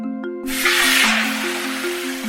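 A long, broad hiss of water spraying out in an animated children's story, loud and steady for about two seconds after a short pause, over a gentle looping music bed with no voices.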